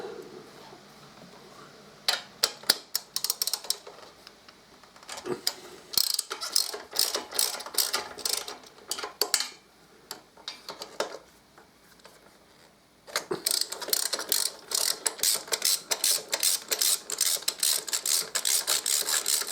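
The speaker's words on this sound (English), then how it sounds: "ratchet's playing up" A ratchet wrench clicks rapidly on the brake caliper bolts of a Harley Davidson Deuce trike, in irregular bursts of ratcheting with short pauses, quiet at first and then in a denser, louder run near the end.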